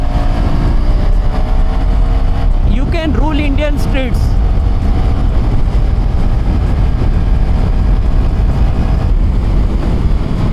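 A KTM Duke 390 motorcycle on the move through Indian streets, its steady engine drone mixed with heavy wind rush throughout, while someone talks briefly over it in the middle.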